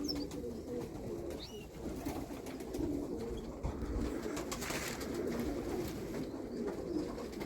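Several pigeons coo softly and repeatedly, low rolling calls overlapping in a steady murmur, with occasional faint chirps and rustling.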